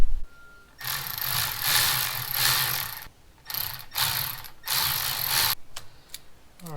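A ratchet tightens the thermostat housing bolts on a Honda BF30 outboard motor, giving close, loud bursts of rapid clicking separated by short pauses, with no talk.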